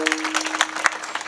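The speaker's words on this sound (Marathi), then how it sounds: "टाळी वाजवा जरा टाळी" Audience at a Marathi kirtan clapping on cue from the performer, a brief burst of sharp, close claps with uneven rhythm, some individual hand strikes popping out, and a faint sustained tone beneath.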